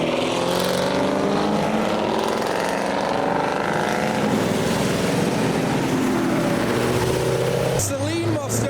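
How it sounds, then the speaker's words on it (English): Ford Mustangs driving into a wet car show, engines rumbling and revving loudly with tyre hiss on wet ground, one car passing near and building, while someone talks excitedly over it. "here come the Mustangs, a trio"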